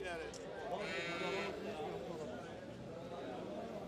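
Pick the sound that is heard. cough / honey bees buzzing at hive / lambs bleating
lambs bleating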